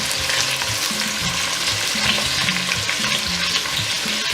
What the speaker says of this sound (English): I'll start by frying my onions